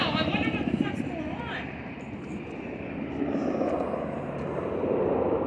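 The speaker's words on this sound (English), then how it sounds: "Black Hawk helicopters, 3 of them." Three Black Hawk helicopters circle overhead, a broad rotor and engine drone that rises and falls in loudness as they pass, with people talking now and then.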